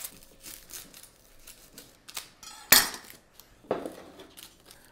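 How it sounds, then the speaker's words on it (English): A kitchen knife thinly slicing a yellow onion on a cutting board: soft scraping and crinkling cuts, followed by two sharp, close chops against the board. "I'm going to thinly slice one yellow onion and also prepare our fresh herbs"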